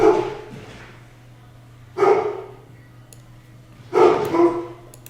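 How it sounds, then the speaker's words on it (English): Excited pet dogs bark indoors in three loud, close bursts spaced about two seconds apart, each a short cluster of barks over a quiet background hum. "Sorry, dogs are excited."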